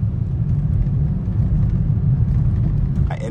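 A 2024 Volkswagen Atlas SEL R-Line driving through a snowstorm, heard as a loud, steady low rumble of road and engine noise from inside the cabin, with a short higher whir at the very end.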